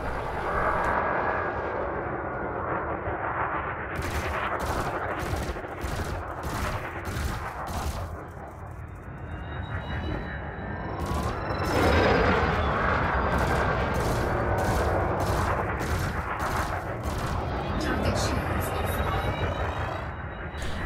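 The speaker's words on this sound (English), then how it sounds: "I would suggest using the burst laser for this, as it's more efficient at damaging shields" Rapid bursts of laser fire from an Elite Dangerous spacecraft hammer an enemy ship's shields, coming in regular pulsed volleys over a steady engine drone, loud and close throughout.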